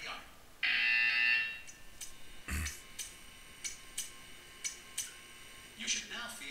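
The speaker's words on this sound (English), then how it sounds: "You will hear a buzzer." Electronic buzzer in the video game Portal 2 sounds one loud, harsh, sustained blast of about a second, then gives way to a quieter run of scattered soft ticks and clicks.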